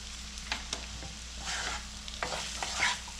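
Spiced brinjal rice with tamarind and jaggery being stirred in a pan, a soft steady sizzle broken by several scraping strokes of the spoon, quiet and close, with no talk.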